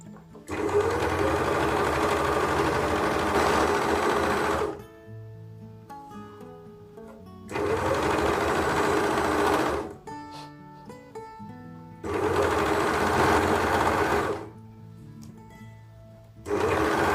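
Sewing machine stitching a blouse in three long, steady bursts of loud, continuous motor whir, separated by short quieter pauses with faint handling.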